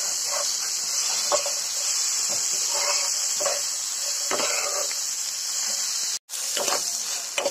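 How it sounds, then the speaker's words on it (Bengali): Cooked rice fries with chopped long beans and carrots over low heat under a steady high hiss, and a spatula scrapes and tosses it at an even pace, close and alone. "সব কিছু ভালো করে ভেজে নেব।"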